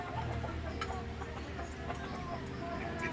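Hen at a backyard coop clucking softly in short bursts at close range, with faint background noise and occasional light talk.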